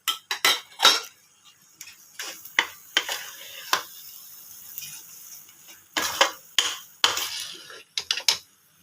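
Srirangam jeera sweet with ghee, cardamom and edible camphor being stirred in a pan so it does not stick: a series of sharp metallic scrapes and clinks against the pan, in irregular bursts with short quiet gaps.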